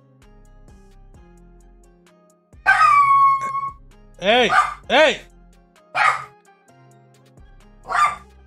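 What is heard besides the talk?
dogs barking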